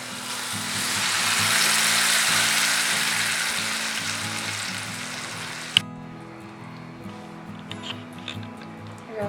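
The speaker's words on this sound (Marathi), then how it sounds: "आता या स्टेजला आपण जी टोमॅटो प्युरी बनवलेली आहे टोमॅटो बॉईल करून ती मी घालत आहे" Boiled tomato puree poured into a pan of frying garlic for penne pasta: a loud, broad sizzle swells and then fades, cutting off sharply into quieter bubbling with a few small clicks.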